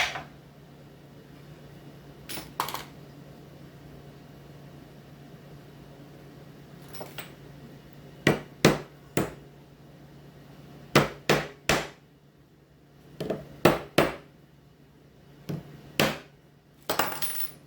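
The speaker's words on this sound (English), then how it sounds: "If you don't have a press, you can just hammer them in." Sharp metallic hammer taps in small clusters as frets are hammered into a guitar fretboard, two or three strikes at a time with pauses between, close by over a faint steady hum.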